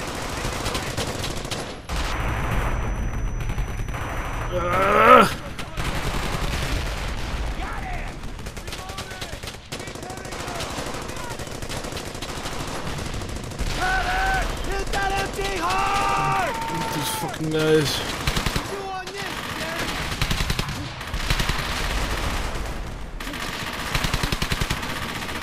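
Gunfire in the World War II shooter game Brothers In Arms: Hell's Highway, bursts of rifle and machine-gun fire crackling amid battle noise, with someone talking over much of it.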